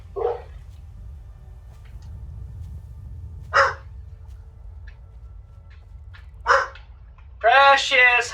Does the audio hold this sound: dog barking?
yes